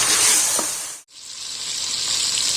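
Chicken sizzles and fries in a kadhai with onion and ginger-garlic paste, a steady close hiss that briefly cuts out mid-way before resuming.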